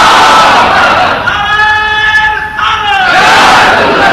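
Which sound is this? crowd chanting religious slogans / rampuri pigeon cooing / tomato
crowd chanting religious slogans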